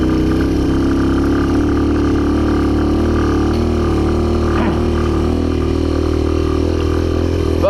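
Old Honda XR 200 dirt bike engine running while ridden over hilly ground, a continuous loud, close drone with a slight pitch change midway, no pauses.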